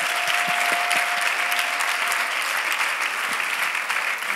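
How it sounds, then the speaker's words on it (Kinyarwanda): A church youth talk-show audience claps in a dense, steady burst of applause that holds level for a few seconds, with faint voices underneath. "tumukomere amashyi asubira mu byicaro bye"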